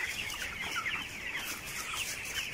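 Broiler chickens, 22 days old, cluck continuously as a dense flock in a poultry farm shed, a steady overlapping chatter of soft calls with no break.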